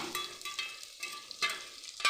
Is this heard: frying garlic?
yes